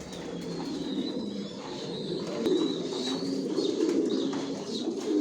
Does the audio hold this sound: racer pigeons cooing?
yes